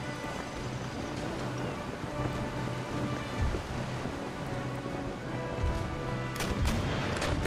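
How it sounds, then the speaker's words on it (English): Naval cannons fire a broadside of chain shot in Empire: Total War sea combat, a dense, continuous roar of overlapping booming cannon fire. "You're going to be firing chain shot head on."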